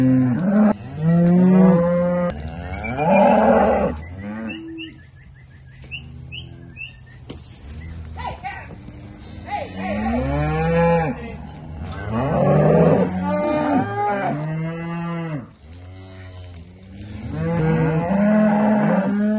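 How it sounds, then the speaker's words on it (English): Steers and heifers being sorted low repeatedly and loudly at close range, their moos coming in an irregular series with short gaps, while birds chirp faintly in the background. "We're sorting to see how many steers and heifers we have."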